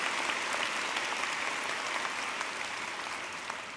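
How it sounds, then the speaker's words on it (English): A large crowd at a university commencement ceremony claps steadily for the faculty, a dense even wash of applause that holds and then slightly eases toward the end. "give the faculty a round of applause"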